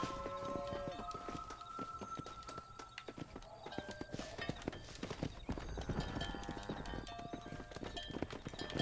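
Hooves clip-clop in a steady walking rhythm under game music in Red Dead Redemption, with a horse briefly whinnying; the sound is close and moderately loud.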